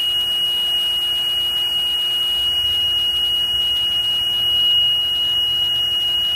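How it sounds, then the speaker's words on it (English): A steady, high electronic alarm tone beeps on and off in a continuous pattern, sounding close and loud over a low background hum. "if you can catch the alarm on camera"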